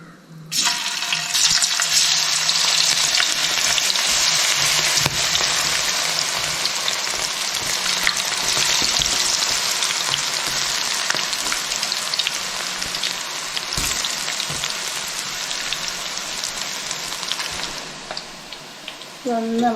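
Batter-coated jackfruit pieces drop into hot oil for deep frying, setting off a loud, dense, rain-like hiss that stays strong and steady for nearly the whole stretch, easing slightly toward the end.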